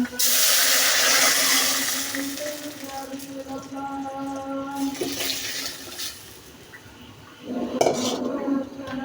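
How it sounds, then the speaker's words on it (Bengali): Tempering poured into dal in a pot in a home kitchen, with loud clattering of a metal pot and utensils, a brief hiss and watery splashing, and a renewed burst of clanking near the end. "আমি ডালগুলো এখন বাগা দিয়ে দিচ্ছি"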